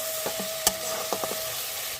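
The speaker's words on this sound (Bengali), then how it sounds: "দিয়ে আমি ভালো করে কষে নেব।" Chili powder masala for a hilsa fish curry sautés in a pan with a steady sizzle, while a spoon scrapes and taps a few times against the pan, close by, with no talking.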